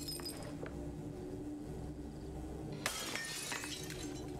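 Glass shatters abruptly in the video game Hello Neighbor 2, a bright crash with a few tinkling fragments after a stretch of quiet ambient game sound.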